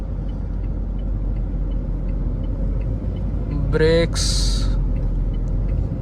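Steady low road rumble inside an automatic Mahindra XUV500 cabin at speed in sixth gear, with a brief louder mechanical whine near the end; someone talks over it throughout.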